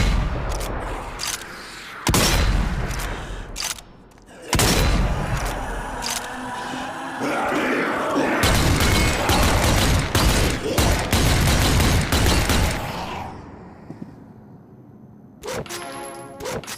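Gun firing in the VR zombie shooter Army Zombie VR, a run of loud sharp shots, some in quick clusters and some spaced out, with mechanical clicks and a quieter stretch toward the end.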